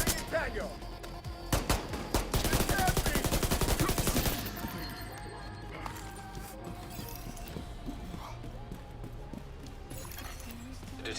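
Rapid automatic gunfire bursts in The Division 2, loud and close for a few seconds, then fading into sparse distant shots and ambient game noise.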